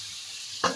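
Vegetable curry frying in a pan gives a steady broadband sizzle, then a sudden louder burst of hissing as water is poured in near the end, with no talking.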